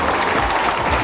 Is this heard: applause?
yes